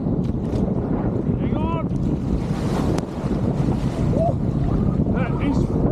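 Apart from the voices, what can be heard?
wind blowing over water on a boat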